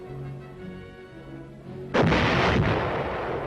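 An artillery gun fires once with a sudden loud, close boom that rolls into a long decaying rumble, after a quieter stretch of low hum and tones.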